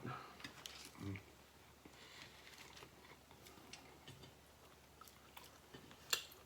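Someone chews sticky rice with fried pork close to the mic, with soft wet mouth sounds and small irregular bites over a quiet background.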